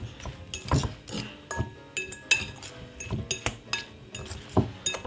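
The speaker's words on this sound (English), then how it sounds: "the best thing to use is a spoon and give it a nice," A spoon clinks and scrapes against a bowl as rice salad is stirred, giving a steady run of bright metallic taps and knocks, close and clear with no talk.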